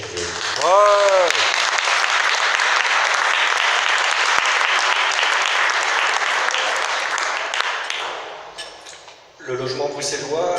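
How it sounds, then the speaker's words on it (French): An audience at a Brussels public housing event applauds Michel Guillaume in loud, sustained clapping that fills most of the stretch, fades toward the end, and gives way to a voice speaking. "Je crois qu'on peut encore applaudir Michel Guillaume."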